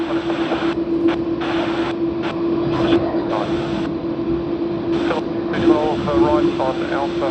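A Qantas Airbus A330 taxis at Sydney Airport, its engines giving a steady, droning jet hum that runs continuously beneath a talking voice.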